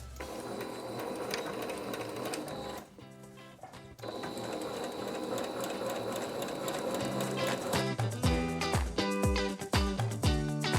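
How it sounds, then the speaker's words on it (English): A sewing machine stitches opened skirt pleats back down, a steady close mechanical whir with a brief pause, then faster bursts of rapid stitching near the end. "So now we're going to go ahead and sew those pleats back down that we opened up on our skirt."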